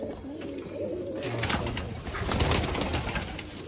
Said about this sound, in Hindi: ये देखिए जी चूहा कबूतर।